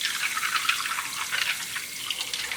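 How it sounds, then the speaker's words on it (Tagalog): Running water washing disinfected gravel for quail chicks at a farm, a close, steady splashing hiss like a tap pouring over stones, continuous throughout. "Hugasan nating mabuti to, yung bato."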